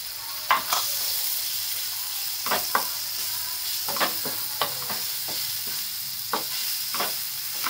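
Chopped tomato sizzles in a hot pan while a spoon stirs it, giving a steady soft frying hiss broken by repeated sharp scraping taps, close and clear with no talk.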